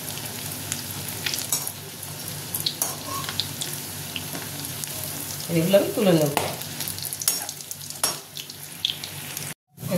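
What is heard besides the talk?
frying poa fingers in oil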